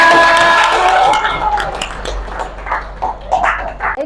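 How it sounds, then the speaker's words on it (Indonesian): Classroom audience clapping and cheering after a tongue-twister exercise during a teacher-training session, loud mixed crowd noise with shouts and some whistle-like tones, continuous throughout. "tepuk tangan untuk semuanya."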